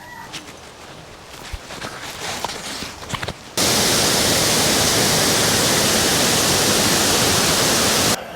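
Jungle waterfall in Bali, a steady loud broadband roar that comes in abruptly partway through and holds constant to the end, after a quieter stretch of ambient forest sound.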